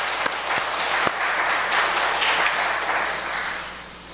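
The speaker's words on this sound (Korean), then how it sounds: "우리 박수 한번 하십시다" A church congregation at a Wednesday worship service breaks into applause, a steady, fairly loud wash of many hands clapping with a few sharper claps near the start, tapering slightly toward the end.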